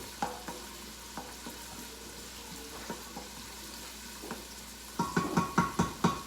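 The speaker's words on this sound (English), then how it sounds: "Just give it a swirl every once in a while. We just want to get those onions nice and soft, translucent." Onions softening in a pan for seafood paella give off a low, steady sizzle, broken by a few soft stirring knocks. Near the end comes a quick run of louder scrapes as the pan is swirled.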